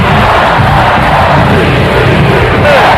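A football stadium crowd roars in a loud, dense, continuous wash of voices that holds steady from start to finish with no distinct words standing out.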